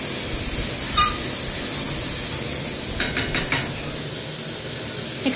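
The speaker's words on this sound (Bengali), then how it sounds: "মাংসটাকে এখন প্রেসার কুকারে সিটি দেওয়া হবে" A pressure cooker holding meat lets off steam in a steady, loud, close hiss that lasts the whole time, with a few faint clicks partway through and no voices.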